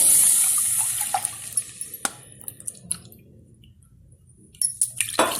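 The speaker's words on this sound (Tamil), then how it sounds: "மாவு ரெண்டு கப் தண்ணி ஊற்றுறேன்" Water splashes and drips into a pan while butter murukku dough is being prepared in a home kitchen, with a steady trickling stream and several sharp drips and clinks, fairly close and without any talking.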